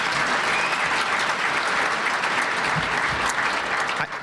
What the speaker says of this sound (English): Can we give another round of applause for them,